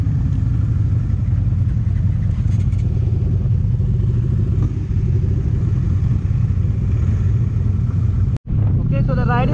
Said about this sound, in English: There are in total of, I guess, 15 to 20 motorcyclists today on the ride.